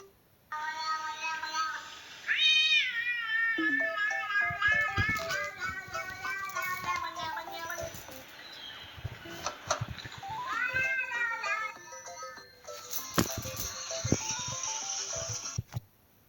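A person's voice imitates a cat meowing, with rising and falling drawn-out mews repeated several times, loud and close, mixed with other children's voices in the background.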